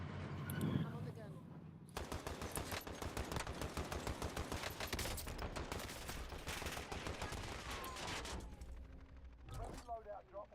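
Sustained automatic gunfire in Warzone, dense rapid bursts running nearly continuously for several seconds at close range, with game sounds before and after.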